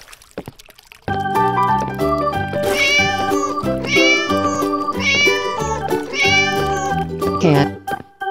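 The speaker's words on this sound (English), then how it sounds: "Cat." A cartoon cat meows over and over in repeated, drawn-out calls layered on cheerful background music, loud and close, with a voice speaking alongside.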